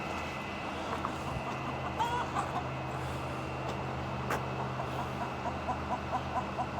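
Turkeys cluck softly near a coop warmed by a heat light, a steady low murmur of fowl calls with occasional sharper notes over a constant background hum.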